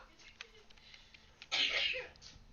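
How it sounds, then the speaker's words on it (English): A single loud human sneeze bursts out near the microphone after a brief quiet stretch with faint background murmurs. "See, look, sneezing."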